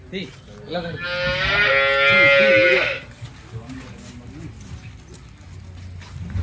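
A pure HF Jersey cow at a dairy farm lets out a long, loud, drawn-out moo with a rising, strained tone. Quieter farm background and faint voices continue afterward.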